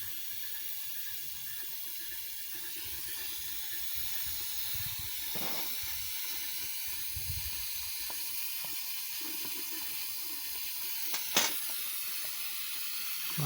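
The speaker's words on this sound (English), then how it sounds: "There's a lot too much steam now." Steam hisses steadily from a coal-fired Quarry Hunslet steam locomotive under test, a constant broad rushing noise at moderate distance with a couple of brief sharper bursts near the end.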